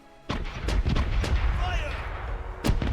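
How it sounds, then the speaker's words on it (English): Ship cannons fire from the starboard side in a pirate video game, a series of heavy booms in quick succession, loud and close, with a faint voice briefly heard among the blasts. "Starboard is ready to fire!"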